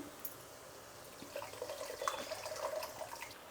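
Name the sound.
water being poured into pan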